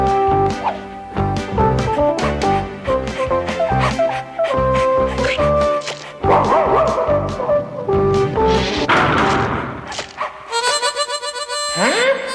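Several small cartoon puppies yipping and barking repeatedly in quick, high-pitched bursts, mixed with whimpers and a cartoonish musical backing.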